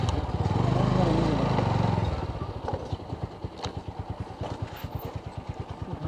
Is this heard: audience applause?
no